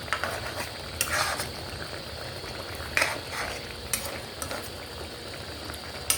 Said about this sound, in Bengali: দিয়ে আমি এটা আস্তে করে নেড়ে দেবো